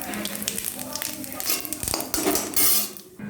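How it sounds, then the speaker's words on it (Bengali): Cumin seeds splutter in hot oil in a wok, a close crackling sizzle broken by clinks and scrapes of a metal spoon against the pan, with no talking. "এবার একটু কড়াইয়ের মধ্যে ফোড়ন দেবো"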